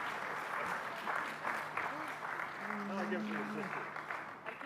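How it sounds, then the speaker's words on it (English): Audience applause following a presentation, a broad steady wash of clapping throughout, with voices talking over it close by. "One more round of applause, please"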